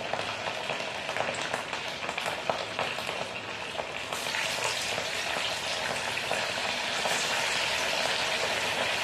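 Bhagar (barnyard millet) medu vada dropped into hot oil and deep-frying, a steady close sizzle that grows louder and busier partway through.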